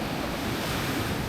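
Broad, continuous roar of ocean surf with wind rushing across the microphone, loud and close.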